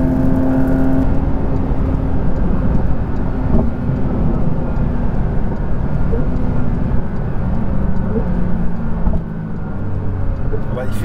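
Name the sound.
Porsche 911 GT3 992 engine sound while driving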